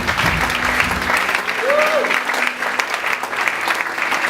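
A church congregation applauds steadily throughout, a dense, continuous wash of clapping that fills the room at an even level.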